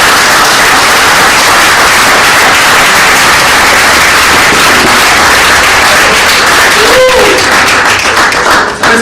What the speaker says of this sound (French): Il mérite vraiment des acclamations à donner.